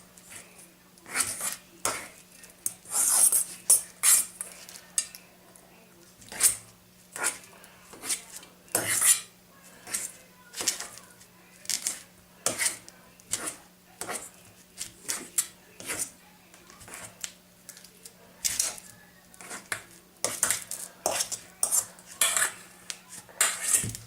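Cream cheese and cheddar being mixed in a bowl for armadillo eggs, with a spoon clinking and scraping against the bowl in a steady run of close, sharp knocks and no talk.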